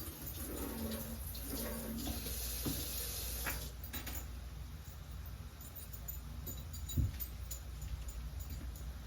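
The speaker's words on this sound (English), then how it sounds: "Let me wash my hands again." Tap water runs steadily from a kitchen faucet while hands are washed between handling minced garlic and seasoning, a continuous close splashing with a few small knocks and no talking.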